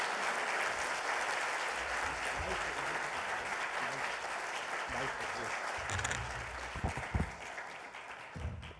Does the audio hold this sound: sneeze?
no